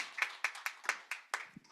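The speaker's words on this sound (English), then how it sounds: "please welcome them with a big round of applause." Scattered hand claps from a small audience at an international policy dialogue conference: about eight distinct, sharp claps in an uneven rhythm, faint and fairly close, with no steady crowd roar.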